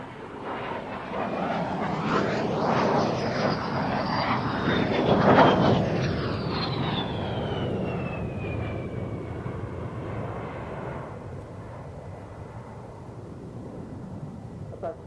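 A fixed-wing aircraft passes in flight, its engine drone swelling to a loud peak and then fading with a falling pitch as it moves away, with no speech over it.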